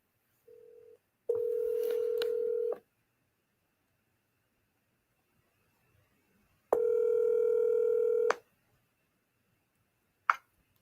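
A telephone call is placed again after a bad line: a short tone blip, then a steady dial tone for about a second and a half, a pause, and a second longer tone burst, ending in a brief click. No voices.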